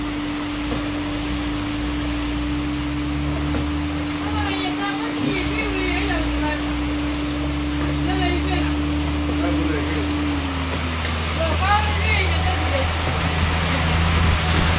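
Heavy rain falls at night in the Halvad area as a steady, loud hiss. Someone talks over it and a low, constant hum runs underneath.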